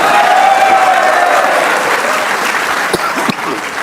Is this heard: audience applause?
yes